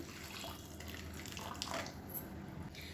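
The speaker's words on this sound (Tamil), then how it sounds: "இப்போ வந்து சுடு தண்ணி சேர்த்துக்கலாம்." Hot water poured into a pot of rice and masala, a steady close splashing pour running without break throughout, with no talking.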